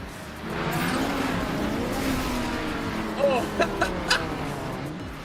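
Race car engines drone and rev steadily in a chaotic round of a demolition derby at a Skids 650 event. The sound is a loud, continuous roar with a few sharp impacts near the end, and voices talk over it.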